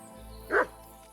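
A dog gives a single short bark in the video game Kingdom Come Deliverance 2, mid-distance and moderately loud over a low ambient background.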